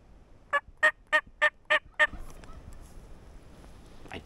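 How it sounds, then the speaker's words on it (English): A Merriam's wild turkey gobbles in open South Dakota country, a rapid burst of six loud, evenly spaced notes followed by faint ambient rustle. "I get a gobble right at my 10 o'clock, 150 yards or so"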